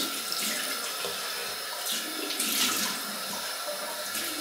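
Cold water pours steadily from a tap into a sink, a close, continuous hissing splash that holds at an even level for a few seconds.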